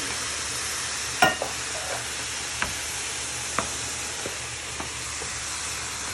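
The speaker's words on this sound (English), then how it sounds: "you carefully stir them all in with your onions, garlic and mushrooms" Tinned tomatoes being stirred into frying onions, garlic and mushrooms produce a soft sizzle with scattered scraping taps of a utensil against the pan, close and without speech.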